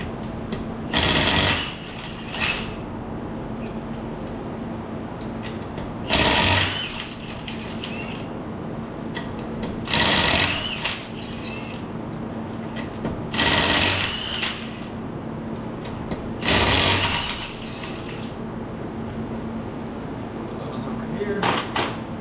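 Loud, close bursts from a power tool break loose the rear wheel of a 2015 Kia Sedona minivan, with five short, harsh rattling runs spaced several seconds apart over a steady background hum, and a voice speaking at times.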